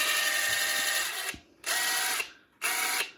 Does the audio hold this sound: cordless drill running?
yes